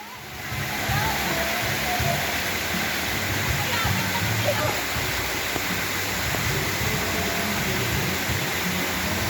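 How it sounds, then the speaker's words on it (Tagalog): Cold natural spring water at Bato Springs in Laguna flows with a steady, close, broadband rush that continues throughout, while voices murmur faintly underneath. "Spring talaga siya, bukal."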